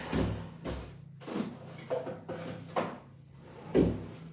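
In a home, a series of drawer and cupboard bumps and slides clatters nearby, with about six separate knocks and scrapes and a sharper thump near the end, with no talking.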